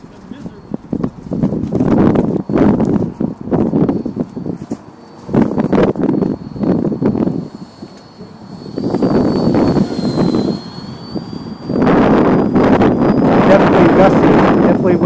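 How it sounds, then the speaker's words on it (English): Gusty wind blowing across an outdoor microphone at a model aircraft flying field, loud rumbling bursts that come and go with short lulls, while people talk and a faint aircraft whine sounds in the background. "Definitely gusty, definitely windy."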